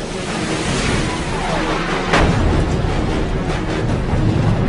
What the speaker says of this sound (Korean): 미사일이 질주한다.